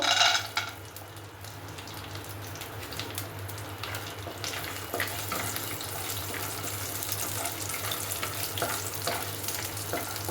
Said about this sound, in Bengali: আমি একটু চিনে বাদাম ভেজে নেবো